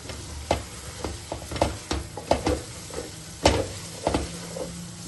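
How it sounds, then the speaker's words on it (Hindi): Ginger garlic paste sizzling and frying in a pan while cooking keema, with a steady hiss broken by irregular scrapes and clinks of stirring, close and moderately loud, no talking. "अदरक लहसुन भी जो है हमारा फ्राई हो चुका है।"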